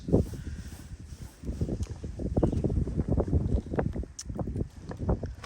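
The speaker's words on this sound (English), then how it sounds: "Yeah, the wind's picking up." Wind gusting steadily along a lakeshore while shore fishing, a close, rumbling buffet against the microphone with irregular thumps and rustles, continuous and fairly loud throughout.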